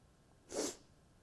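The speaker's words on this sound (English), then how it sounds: "As I sniffle." A single short sniffle from a man holding a passive leg stretch on a partner, one quick breathy burst of air through the nose, close and fairly quiet, with no one talking.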